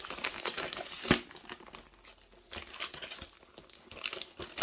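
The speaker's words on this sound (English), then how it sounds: "I should put it back in the plastic bag." A plastic bag crinkles as parts from a Kill Team starter set are slipped back inside, quiet, close rustles and scattered crisp crunches coming in uneven bursts.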